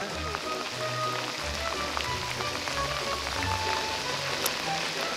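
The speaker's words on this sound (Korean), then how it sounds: "누가 오늘 비 몇 미리 안 온다 그랬냐?" Heavy rain pours down hard on an octopus fishing trip at Yeosu, making a dense, steady drumming rush of drops on nearby surfaces, with a low voice murmuring faintly beneath it.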